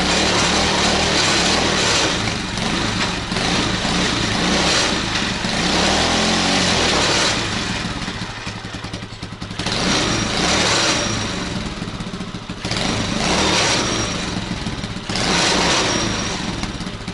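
A homemade tricycle's engine running in reverse gear, a loud, close mid-pitched motor drone that dips and rises several times in revs, with no voices over it.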